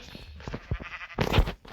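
Goats bleat in a farming video game, several short, close bleats in an uneven sequence, with a louder burst toward the end.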